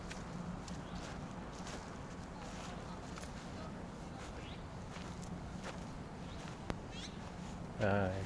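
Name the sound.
stray cat meowing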